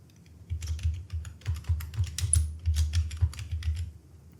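Steady, fast typing on a computer keyboard while entering labels into an Excel spreadsheet, a close run of crisp key clicks over a low hum, with no voice.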